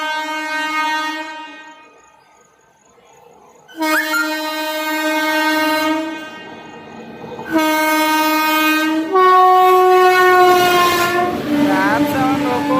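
A loud train horn sounds in several long, sustained blasts with short gaps between them, close by over a low rumble of a passing train crossing an express train at Machilipatnam.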